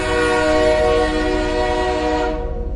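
A loud, sustained train horn blares steadily for a few seconds, rich and droning, then cuts off sharply at the end.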